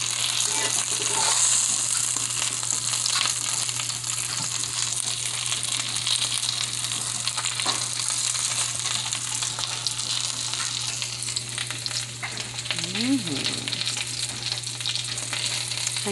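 Food fries in hot grease during breakfast cooking, a steady crackling sizzle that runs unbroken for the whole stretch with no talk over it.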